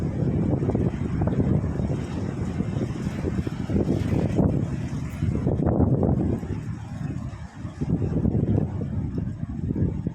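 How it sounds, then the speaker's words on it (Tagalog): Strong wind in a park buffets the microphone in loud, continuous low rumbling gusts that swell and ease throughout. "Ang lakas ng hangin."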